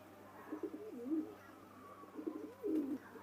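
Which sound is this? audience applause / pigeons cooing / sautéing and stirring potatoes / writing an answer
pigeons cooing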